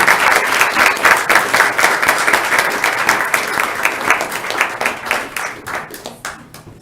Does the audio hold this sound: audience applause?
yes